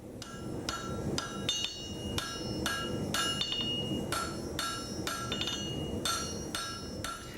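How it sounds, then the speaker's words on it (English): A traditional bladesmith hammers a glowing steel knife blade during forging, with steady, evenly spaced ringing blows about once per second, loud and close, without any talk. "Keith keeps the metal glowing while he hammers it into shape"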